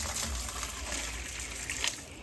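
Water poured into a container holding copper sulphate, a steady close gushing splash that runs unbroken for a couple of seconds with no talking.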